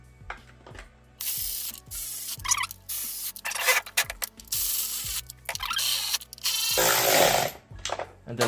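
Ratchet tightening the 11 mm bolts on a BMW N54 oil filter housing of a 2008 BMW 335i E90, a fast series of close clicking ratchet strokes with brief pauses and scraping between bursts, no talk.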